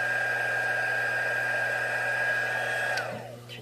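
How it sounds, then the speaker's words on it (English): A heat embossing tool blasting hot air, a loud steady whirring rush with a high whine that winds down and fades near the end as it is switched off. "I'm going to heat emboss that"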